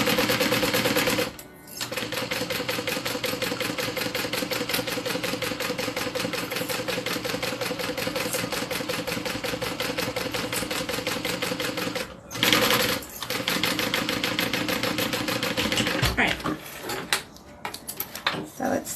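A sewing machine stitching on a zipper, a fast steady mechanical rattle running close and continuous, briefly pausing twice and stopping near the end, with some talk mixed in.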